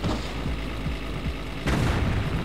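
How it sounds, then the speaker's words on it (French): Grenade blasts in Tomb Raider 4 rumble as a dense, continuous roar of game noise, with a sharp louder burst partway through and no voices. "On nous balance des grenades et puis des pics."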